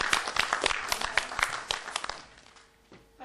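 An audience claps in a burst of applause at a music and book launch event in Slatina, Romania, tapering off over a few seconds, with some voices mixed in.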